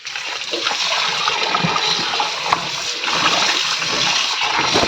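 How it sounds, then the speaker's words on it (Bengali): Gourd leaves are washed in water and left to drain, giving continuous close splashing and sloshing of water with no pause. "এবার ভালো করে ধুয়ে নিয়ে জল ঝরাতে দিয়ে দেবো"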